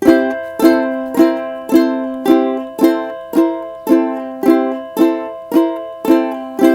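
A plucked ukulele repeats an even, bouncing C-chord blues alternating walk, strummed strokes ringing and decaying in a steady rhythm.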